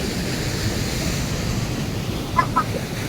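Strong river current rushing past a swimming spot, a loud, steady broadband roar that fills the whole clip, with a couple of brief sharper sounds near the end.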